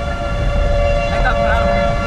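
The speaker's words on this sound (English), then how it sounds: "pretty neat to hear the sirens though." Tornado sirens in Ness City, Kansas, during a 2008 storm give a loud, sustained wailing tone over low rumbling wind noise, with faint voices in the background.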